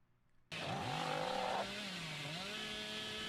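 Hillbilly's chainsaw in a video game bursts into a loud, sustained engine rev after a brief quiet start, its pitch rising and wavering as it charges.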